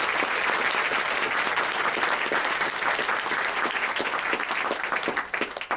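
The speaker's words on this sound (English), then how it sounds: "please give a round of applause to our guest speaker this evening" An evening lecture audience applauds a guest speaker as he is welcomed, a steady, dense wash of clapping from a roomful of people that holds for several seconds, close and even, with no talk over it.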